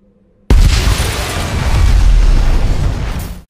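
A car bomb detonates beside a luxury car parked at a Berlin roadside, a sudden heavy boom after a moment of silence, then a loud, sustained roaring rumble that slowly fades before cutting off.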